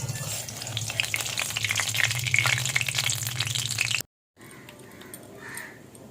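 Fish frying in mustard oil with black cumin in a wok, a loud, steady crackling sizzle for about four seconds, then a brief cut and a quieter, softer frying hiss.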